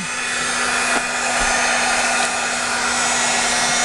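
A hair dryer blows steadily close by while drying a freshly stamped image, a loud, constant whooshing hum that holds unbroken throughout with no talk.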